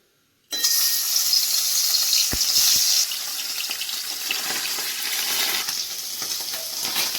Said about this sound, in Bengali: মাছগুলো আমি আস্তে আস্তে ভাজা হচ্ছে।